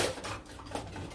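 Kitchen utensils clatter and scrape together as a drawer is rummaged for a small whisk. The metallic jangling is close and continuous through a short burst.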